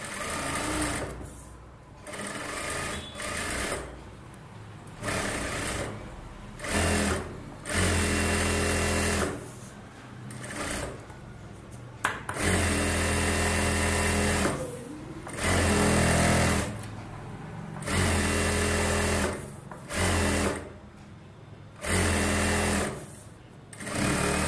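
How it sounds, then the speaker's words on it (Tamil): A sewing machine runs in repeated loud bursts with short pauses, stitching around the lining of a bridal Aari work blouse, with no talking. "இப்போ வந்து சுற்றி நம்ம தையல் போடுறத போட்டுக்கலாம்"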